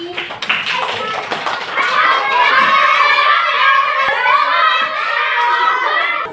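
Children clap for a classmate named Sani in a classroom, a quick burst of close, busy hand claps running through the whole moment, with young voices chattering and shouting underneath.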